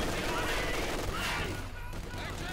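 MG42 machine gun fire in a Company of Heroes 2 battle, with dense continuous rattling bursts and distant battlefield noise filling the whole stretch, while a voice talks over it.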